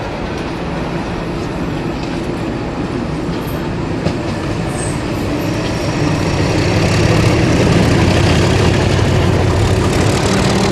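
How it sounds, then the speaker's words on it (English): Class 37 diesel locomotive train running on the Cambrian Line, a steady loud rumble and rolling rail noise that swells slightly toward the end, with no voices. "4 Class 37s which work on the Cambrian Line's pilot project for the ERTMS signalling scheme"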